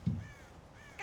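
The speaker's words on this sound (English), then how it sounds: "God damn crows!" Crows cawing in the Red Dead Redemption video game, heard as a short burst at the start followed by fainter harsh calls across the farm ambience, with no talking.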